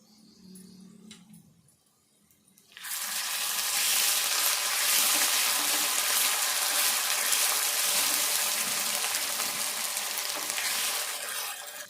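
Whole spices and ground masala chili powder hit hot oil while tempering for a potato fry, setting off a loud, steady sizzle that bursts in after a quiet start and holds close and bright to the end.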